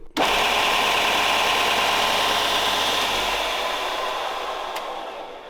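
A Harbor Freight 6x48 belt sander upgraded with a 3HP motor snaps on almost instantly to a loud, steady whirring roar that holds close and continuous, easing slightly toward the end, with no talking.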